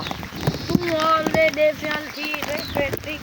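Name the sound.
rain falling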